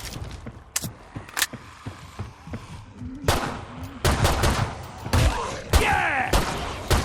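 Gunfire in the Killing Floor 2 video game, Hell on Earth difficulty with a Demolitionist, sounding as sharp bursts of shots and blasts, sparse at first and then dense and loud in the second half.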